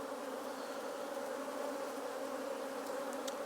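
Honey bees crawl over a tilted hive frame during a borage nectar flow, making a steady, dense buzzing hum that holds evenly throughout, close and continuous with no voices.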